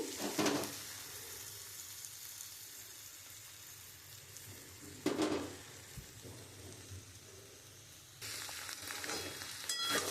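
Fish roe fries with ivy gourd in a pan, giving a soft, close sizzle that runs throughout, broken by two sharp louder bursts of spattering or stirring near the start and middle and a brighter crackle toward the end.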